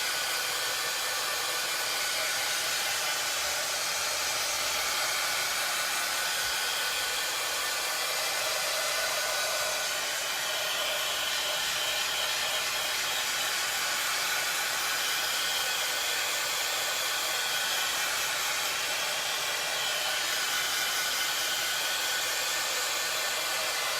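A hair dryer runs continuously at a steady loud roar throughout, drying a craft project, with no pauses or talk.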